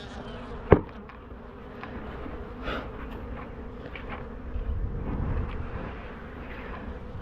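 Honeybees hum around an open hive while its floor is being changed. The buzzing is a steady, close drone throughout, with one sharp knock near the start.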